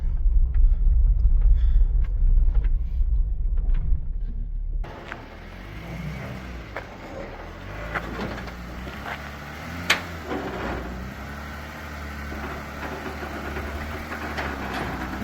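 Car being driven slowly onto a trailer, a low engine idle rumbling steadily with light throttle changes and occasional clunks, loud and close throughout.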